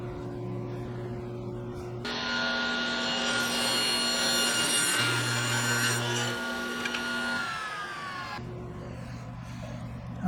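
A table saw spins up and cuts oak during a test run of a box joint sled, a loud whining blade tone with a rough cutting rasp lasting several seconds before winding back down to an idle hum.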